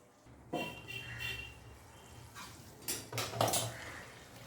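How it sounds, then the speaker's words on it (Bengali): Lauki kofta curry gets gently stirred in a pan, a few soft scrapes and light metal clinks of a spoon over a quiet background, faint and intermittent with no speech. "এবার আমি কোফতাগুলো দিয়ে দেব। হালকা হাতে নেড়ে নেব।"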